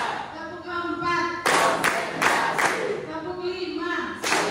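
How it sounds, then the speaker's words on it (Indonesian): A group of children plays a counting hand-clapping game, with sharp claps landing in a loose rhythm between bursts of chanted voices, close and lively. "Tepuk 1, tepuk 2, tepuk 3, tepuk 4"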